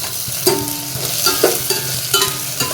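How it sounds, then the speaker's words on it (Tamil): Capsicum, a large bell pepper, tossed into a pan with onions fried to a pink stage, sizzles loudly and close while a spatula scrapes and stirs it in quick, regular strokes, with no voices. "அதையே நம்ம போட்டு கைவிடாமல் நல்லா கிளறணும்"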